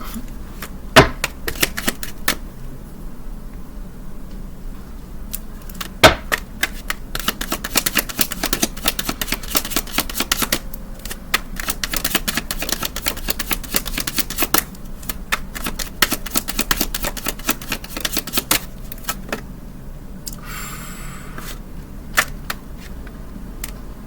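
Tarot cards being shuffled by hand, a run of crisp riffling flutters and slaps that come in bursts with brief pauses, close and fairly loud, with no talk.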